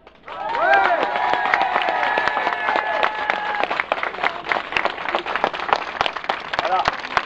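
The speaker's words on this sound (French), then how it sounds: "On les applaudit, s'il vous plaît." Sustained applause from a crowd clapping for healthcare workers at a hospital, dense rhythmic clapping that builds quickly and continues steadily, with voices and some cheering mixed in.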